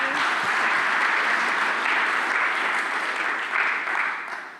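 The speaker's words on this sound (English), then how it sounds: "A big applause for you." Audience at a livestreamed conference session clapping in a steady, dense round of applause that holds level, then thins and fades over the last second, with no talking over it.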